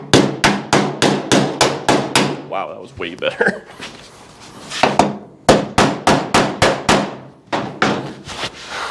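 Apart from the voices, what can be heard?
hammer striking car body in paintless dent repair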